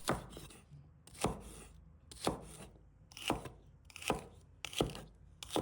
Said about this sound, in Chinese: 准备适量的西芹，把它切成小块。